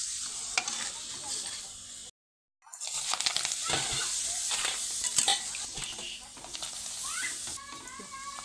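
Papads fry and puff up in oil with crackling sizzle and bursts, broken by a brief silent gap, then continuing busily with scattered clatter from stirring nearby.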